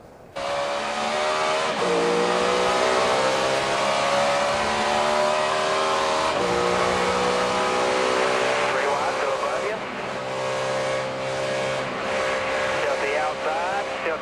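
Onboard a Chevrolet NASCAR stock car after a hard crash at the 2008 UAW-Dodge 500, with a loud, continuous engine roar that rises and falls as it revs, and race commentary talking over it throughout.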